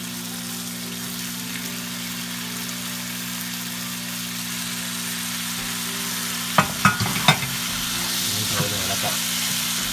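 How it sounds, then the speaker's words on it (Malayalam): Washed beef added to a hot pan for beef masala, frying with a steady sizzle and then a few sharp stirring clinks partway through. "കഴുകി വൃത്തിയാക്കി വെച്ചിരുന്ന ബീഫ് നമ്മൾ ഇതിലേക്ക് ചേർത്ത് കൊടുക്കുകയാണ്."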